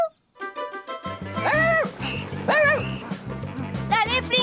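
Cartoon dog Flinky gives a run of sharp, yappy barks and yips over bouncy background music, several close barks in quick succession.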